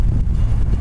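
Loud, low buffeting wind rumbles across the microphone aboard a race boat on the water near a drawbridge, continuous through the brief moment.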